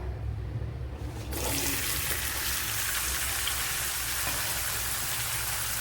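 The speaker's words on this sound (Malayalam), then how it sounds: "ഇനി ഈ നെല്ലിക്ക തട്ടി കൊടുക്കാം" Indian gooseberries (amla) tipped into hot oil in a pan while making pickle set off a sudden loud sizzle that continues as a steady, dense hiss.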